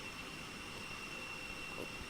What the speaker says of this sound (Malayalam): നമ്മുടെ പ്ലെയിൻ വീണ്ടും പറന്നേക്കാണ്